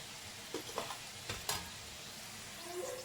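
Okra (ladies finger) snacks fry and bubble in hot oil, a quiet steady sizzle with a few light stirring knocks and scrapes, no talking over it.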